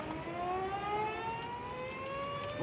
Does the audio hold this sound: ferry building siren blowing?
yes